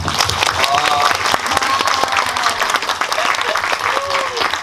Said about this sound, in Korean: 같이 한번 박수 한번 칠까요?